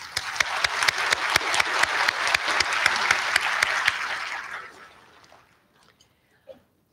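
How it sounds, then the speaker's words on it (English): Dense applause from a commencement audience at a Concord University graduation, a steady wash of many hands with a few distinct loud claps, fading out over the last seconds into near silence. "I'd like to give you a hand of applause."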